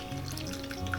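Water is poured onto cornstarch in a kitchen while making fresh lumpia, a brief steady splashing pour heard close up on its own.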